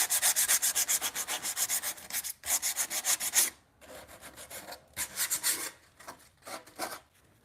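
Hand sanding on a wooden bunk bed makes rhythmic rasping strokes, fast regular bursts, then a pause and shorter irregular runs, close and loud with no talk.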